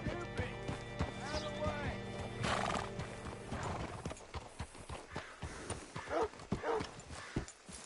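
Horse hooves clip-clop steadily and a horse whinnies loudly in Red Dead Redemption 2 as the animal is hitched up, the hoofbeats slowing into scattered thuds over faint background noise.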